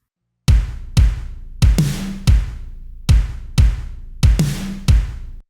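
Punchy kick and snare drum hits alone in a steady rhythm, eight sharp strikes each followed by a short decay.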